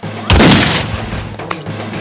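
A single loud, close gunshot from a Telugu comedy film bursts out with a sharp crack and a booming decay lasting about half a second, followed by a faint, brief secondary snap, with no voices over it.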